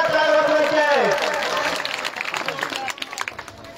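A village temple gathering claps loudly to thank donors of cement bags. The steady applause comes in over a fading tone and then breaks into looser, uneven claps toward the end.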